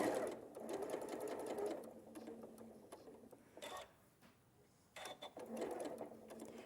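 A sewing machine top-stitches fabric with a rapid, steady mechanical whirr of needle strokes, running in bursts with brief pauses between stitching runs, close and clear.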